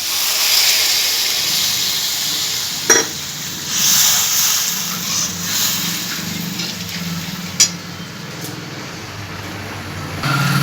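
Water poured into a cooking papad and pointed gourd curry in a hot pan, giving a loud steady hiss and sizzle with a few sharp utensil clicks, close and without talk.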